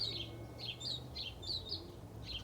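Birds chirp outdoors in short bright bursts, roughly five evenly spaced calls, faint and somewhat distant over a low steady background hum.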